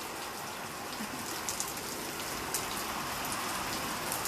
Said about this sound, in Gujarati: જોરદાર વરસાદ પડે છે અમારા અહીંયા